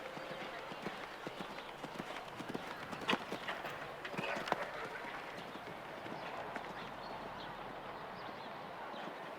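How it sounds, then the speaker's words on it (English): A show-jumping horse gallops over a 1.50 m grand prix course at an outdoor international event, its hooves drumming in a fast, steady clip-clop with a few louder thuds, moderately near, with faint birds and crowd ambience. "Horse overran a little bit."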